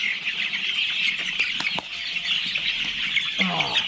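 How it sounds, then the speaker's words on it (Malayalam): Native chickens cluck and chirp steadily at a chicken farm in Kuttiyadi, Kerala, over a noisy outdoor background, with a few sharper calls standing out near the end. "നല്ല നാടൻ കോഴി."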